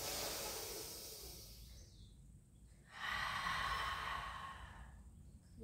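A long, breathy exhale during a pilates stretch, soft and close, with a second fuller out-breath midway and no talking.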